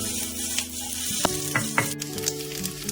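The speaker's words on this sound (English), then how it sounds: "Break it up and stir fry until everything is evenly coated" Kimchi fried rice stir-fries in a hot pan with sesame oil, giving a loud, close, continuous sizzle broken by a few scraping stirs and clatters of the utensil.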